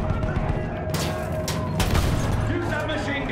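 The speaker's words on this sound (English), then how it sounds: "Use that machine gun! Mow them down!" Battlefield 1 World War I battle scene with machine gun fire and bursts of gunfire and explosions, loud and sustained, under shouted voices.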